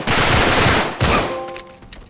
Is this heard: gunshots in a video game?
yes